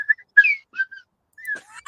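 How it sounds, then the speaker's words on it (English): A slide whistle plays a series of short rising and falling glides with gaps of silence between them, loud and close, ending in a quick upward run; no voices. "There's got to be a slide whistle on the song."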